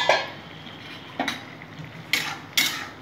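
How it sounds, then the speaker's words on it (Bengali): A utensil stirring ridge gourd and potato with salt in a pan, four sharp scraping clinks against the metal at uneven intervals over a faint sizzle, close and clear with no talk. "ভালো করে আমি নাড়াচাড়া করে নেব নুন দিয়ে ঝিঙা আলুটাকে"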